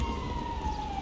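Emergency vehicle siren in the GTA V LSPDFR police mod, a steady high wailing tone sounding alone, fairly close over a low rumbling engine bed, briefly and unbroken.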